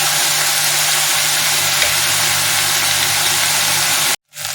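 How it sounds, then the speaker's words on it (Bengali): Chopped onion, tomato and green chili fry in hot oil while being stirred, a steady close sizzle with light scraping that runs evenly and then cuts off abruptly near the end. "এবার আমি একসাথে মিক্স করে ভালো করে ভাজবো এটা।"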